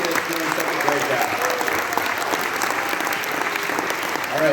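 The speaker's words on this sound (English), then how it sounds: "one more round of applause for all of these kids doing such a great job" A school concert audience claps steadily and loudly for sixth-grade band students, a dense, even wash of applause with faint crowd voices underneath.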